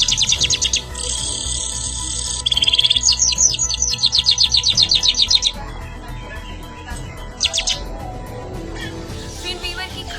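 Finn's weaver birds chirp and twitter in a nest tree, with loud, rapid bursts of high trilling calls and fast repeated tweets starting and stopping, some close and some farther off, over steady outdoor background noise.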